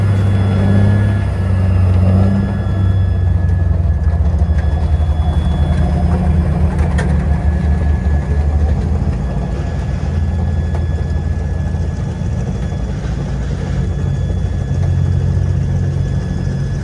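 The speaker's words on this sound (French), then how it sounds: "Voici l'EBR pour engin blindé de reconnaissance. Conçu par Panhard" A Panhard EBR armored reconnaissance vehicle rumbles with a loud, steady low engine drone at close range, holding an even idle-like throb for the whole stretch with no voices.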